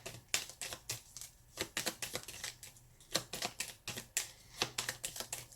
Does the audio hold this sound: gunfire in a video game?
no